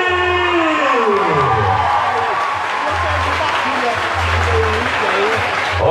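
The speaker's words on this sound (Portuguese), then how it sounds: "Vamos aplaudir, vamos aplaudir!" Crowd applause at a São João quadrilha dance festival stage in Aroeiras, Paraíba, loud and sustained, with a PA announcer's voice and a low bass-heavy music rumble running through it.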